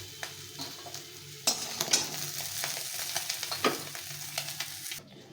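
Morola fish frying in hot oil in a kadai: a steady, close sizzle with occasional sharper crackles and faint utensil clinks, with no talking.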